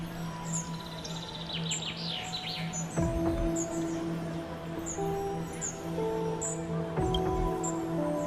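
A bird perched on a character's shoulder in Honkai: Star Rail gives quick, high chirps and tweets in a short flurry early on, then soft sustained game tones and music carry on beneath.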